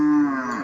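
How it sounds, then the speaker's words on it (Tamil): A cow in a village lows once, a single loud, drawn-out moo that slowly falls in pitch and fades toward the end, heard close and alone. "மாடு அப்படியே கத்திக்கினே கிடக்குது."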